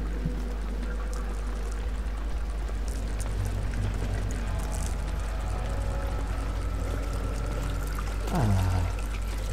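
Steady pouring water like a running shower in Amnesia: The Dark Descent, a constant hiss and trickle over a low hum, with a brief splashing swell near the end.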